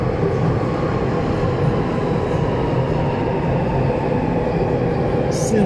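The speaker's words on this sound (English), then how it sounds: "we're jumping off at the next subway station to connect to line number 4" A Beijing subway train rumbles loudly and continuously during the ride, heard from inside the carriage with a steady roar and no breaks.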